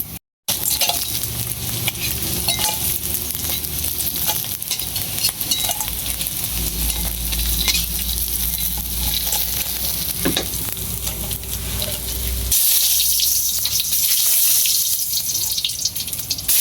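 Jute leaf fritters fry in hot oil with a dense, continuous sizzle and bubbling, with occasional scrapes; the frying grows louder and more crackly toward the end.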